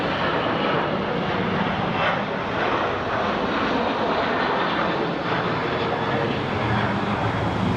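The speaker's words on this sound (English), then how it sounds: "There's our Prime plane." Amazon Prime cargo plane passing at Phoenix Sky Harbor International Airport, a loud, continuous engine roar that holds steady throughout with a broad rushing quality, heard outdoors without clear talk.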